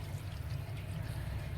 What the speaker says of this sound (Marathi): एक पाण्याने धुणार आहे मी ह्याला